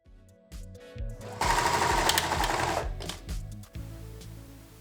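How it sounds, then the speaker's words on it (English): A serger finishing the raw edges of a crochet afghan being sewn into a cardigan runs in a loud, fast mechanical whir with bursts and brief pauses, close up and without talk. "Then I'm moving over to my serger to finish all of my raw edges."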